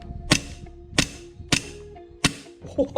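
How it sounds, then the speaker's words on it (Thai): An SIG Air M18 BB pistol with a stiff 150% recoil spring is dry-fired with no BBs loaded, giving four sharp, loud snaps at roughly half-second intervals, followed by a few softer mechanical clicks. "ผมลองยิงดูนะ ยิงเปล่านะครับนี่ ไม่มีลูกนะ"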